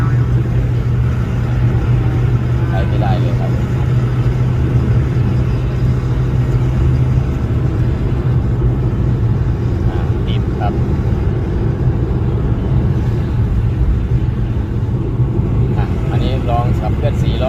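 A John Deere 5050D tractor engine plowing in rear two-wheel drive gives a steady, loud, close rumble with a constant low hum throughout, and a voice talks over it.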